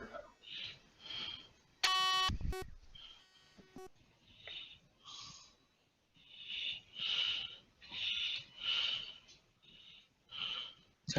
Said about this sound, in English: I hear deep breathing, man